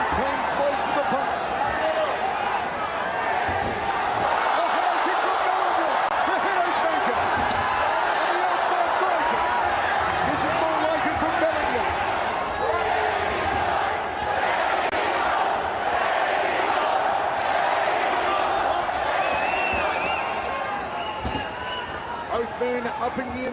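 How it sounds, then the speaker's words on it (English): A large crowd at an MMA bout between Belingon and Nguyen roars in a loud, continuous swell that barely dips, with an announcer's voice running over it throughout. "The crowd roars again as Belingon came close to the punch."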